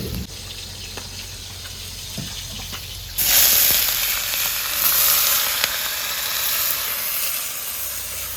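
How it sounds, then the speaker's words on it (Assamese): Fish frying in a pan in a village kitchen, a soft low hiss that jumps to a loud, dense sizzle a few seconds in and stays bright and steady to the end. "এইফালে হৈ আছে মাছ ফ্ৰাই"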